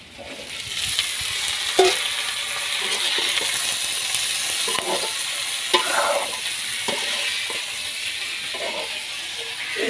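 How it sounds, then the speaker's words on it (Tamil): Onions and fenugreek seeds sautéing in a pan for a Jaffna-style curry, making a continuous bright sizzle with occasional soft knocks of a spoon against the pan, near and loud with no one talking. "இப்போ பாருங்க வெந்தயம் எல்லாம் நல்லா வதங்கிடுது வெங்காயம் வெந்தயமும் நல்லா வதங்கி வந்துடுது"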